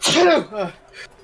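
A single loud, close sneeze bursts out, followed by a brief murmur of voices.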